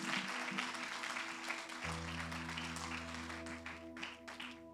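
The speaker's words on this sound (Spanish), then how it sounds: "Otro aplauso." A church congregation claps during a Sunday service, a spread of scattered, fairly faint hand claps over an organ or keyboard drone that shifts to a lower chord midway.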